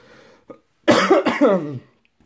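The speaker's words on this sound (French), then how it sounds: "je tousse encore" A single harsh, close cough burst lasting about a second, preceded by a faint throat sound, then quiet.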